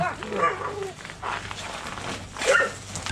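Husky at an animal shelter barking in short yelping bursts, with other dogs and people talking nearby in the background.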